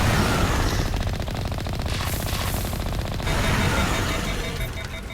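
Starship weapons firing in Mass Effect, a loud and steady stream of rapid shots lasting about five seconds, alone with no talk.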